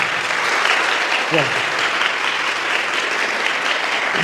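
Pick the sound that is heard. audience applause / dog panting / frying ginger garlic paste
audience applause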